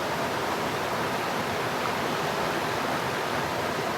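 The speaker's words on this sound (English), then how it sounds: "First waterfalls of the trip." Clear waterfalls by a canoe portage at Zec Kipawa roar in a steady, loud, unbroken rush of white water, close and continuous with no voices.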